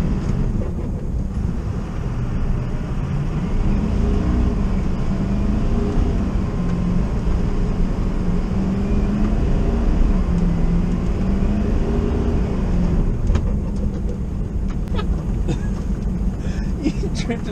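A Ford 6.0 Powerstroke dually truck drives through snow, its engine a steady low drone under wind buffeting, with people talking inside the cab.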